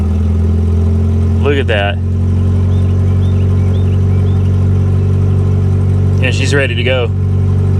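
A Plymouth Colt engine idles with a loud, steady hum that rises slightly partway through, while someone talks briefly over it.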